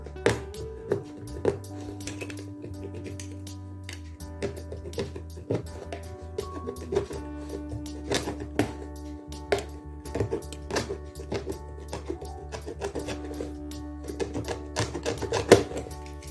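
A knife heated over a gas flame or a candle cuts through material in a kitchen, giving sharp, distinct taps and thunks in an uneven rhythm over a faint low hum, close and fairly quiet, with no talk.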